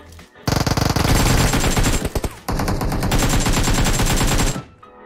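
Loud, sustained automatic gunfire from a video game, rapid bursts rattling almost continuously with one brief gap before the firing resumes and then cuts off.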